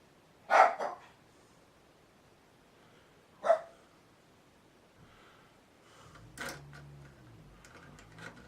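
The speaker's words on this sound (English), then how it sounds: "if they keep setting my fucking dog off" A dog barks at night: two short, sharp bursts several seconds apart. They are moderately distant in a quiet setting, followed by a low rumbling murmur near the end.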